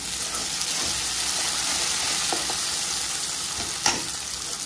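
Golden-fried onion sizzling steadily in a pan with fresh coriander tossed in, a constant close hiss broken by a few scraping stirs and one sharper clack near the end, no voices.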